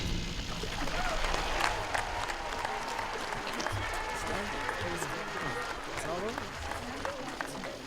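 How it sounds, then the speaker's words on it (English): Sustained audience applause at a Red Mountain class of 2019 high school graduation ceremony, dense steady clapping from a large crowd filling the hall, with scattered voices mixed in throughout. "Can we have another warm round of applause for our amazing students performing the presentation of the colors and the alma mater?"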